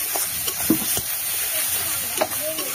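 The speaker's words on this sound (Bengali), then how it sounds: "আর একটু নেড়ে নিতে হবে, যতক্ষণ ভাজা ভাজা না হবে। এই যে রসুনটা দিয়েছিলাম পুরোটা আমি দিচ্ছি না, কিছুটা রসুন দিয়ে দিলাম।" Garlic sizzles in oil in a pan while being stirred for a cabbage mash, a steady frying hiss broken by a few brief scraping clinks of the spoon.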